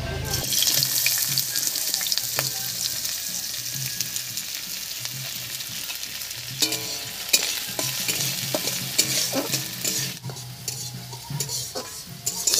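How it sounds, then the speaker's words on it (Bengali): Large chunks of onion fry in hot mustard oil in a kadai, a steady bright sizzle with occasional stirring clatter and scraping, fairly loud and close throughout. "এবার তেলের মধ্যে দেবো এরকম বড় বড় টুকরো করে কাটা পেঁয়াজ"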